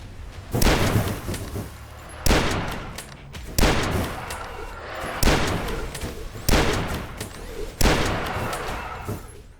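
Rifle shots in the video game Beneath Dusk: six loud, sharp reports spaced roughly evenly over several seconds, each followed by a short decaying tail.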